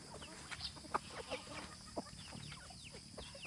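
Free-range chickens near their coop give scattered soft clucks and a few brief calls at a moderate distance, spread irregularly over steady low background noise.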